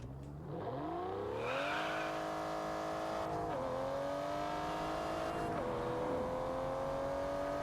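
A high-powered rear-wheel-drive 600-horsepower car in the racing game Test Drive Unlimited Solar Crown, its engine revving hard and climbing through gears with a loud, continuous rising whine and shift drops, no talk.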